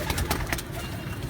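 Pigeons kept on a rooftop coo softly in short repeated calls, low and close, over a noisy background.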